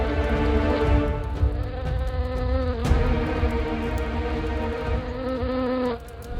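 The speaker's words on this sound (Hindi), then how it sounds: "अगर तुम मेरे लिए कुछ करना ही चाहते हो तो इन मक्खियों को यहां से भगा दो।" Flies buzz loudly and steadily right up close, a continuous droning hum that holds for several seconds before dropping away near the end, with no voices.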